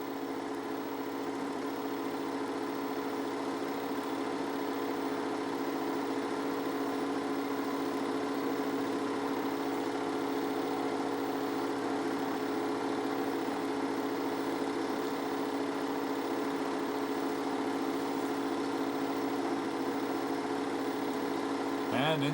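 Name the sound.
car engine idling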